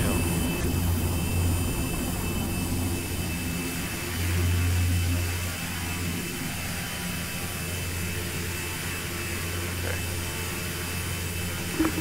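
A steady airplane engine drone from the Prepar3D v4 flight simulator game runs throughout at moderate level, a low constant hum with a brief swell around the middle and no talk over it.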